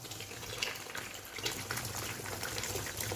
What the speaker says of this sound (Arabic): فرغ المي مالت المالح